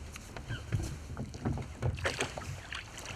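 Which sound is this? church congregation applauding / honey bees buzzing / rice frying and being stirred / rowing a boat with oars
rowing a boat with oars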